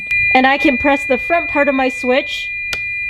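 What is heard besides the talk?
Toyota Tacoma reverse gear warning beeping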